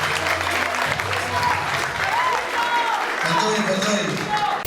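A studio audience applauds loudly and continuously through the whole stretch, with crowd voices mixed in.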